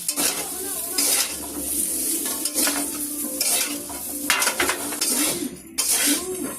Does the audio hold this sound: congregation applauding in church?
no